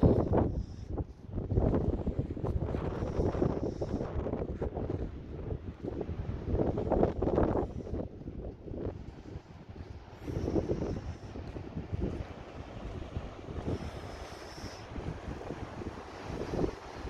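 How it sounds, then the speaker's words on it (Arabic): Steady wind gusts buffet the microphone on the coast near a fishing village south of Boujdour, making a continuous low rumbling roar with surges but no clear voices. "كاين الريح،"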